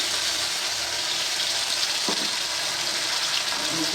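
Poppy seed paste hisses and sizzles steadily in a little oil in a wok, a continuous close crackle with a brief stir or clatter in the middle, and no voices.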